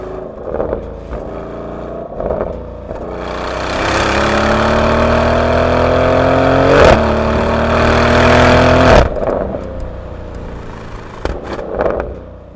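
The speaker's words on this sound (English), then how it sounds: "The burble, the entire depth of that exhaust coming out." Deep V8 exhaust burbling from a Porsche Cayenne GTS SUV as the engine revs up and holds a throaty drone for several seconds, then drops back to a rumbling idle with short blips.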